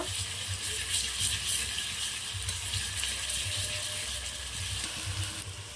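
Onion and garlic paste frying in a pan over a wood-fired clay stove while purda biryani is cooked: a steady, soft hiss of sizzling oil that runs unbroken and fairly faint, with a low rumble beneath and no voices.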